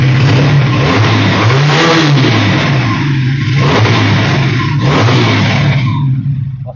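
A Regal chopper motorcycle's exhaust roaring as the engine is revved hard: loud and close, with rising and falling throttle swells over a continuous rumble that tapers off at the end.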